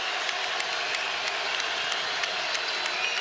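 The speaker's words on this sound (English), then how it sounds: "The crowd is on their feet." A college basketball arena crowd at a UNLV versus Boise State men's game roars and applauds steadily after a made basket, a dense, even wash of cheering with scattered sharper claps and no clear speech.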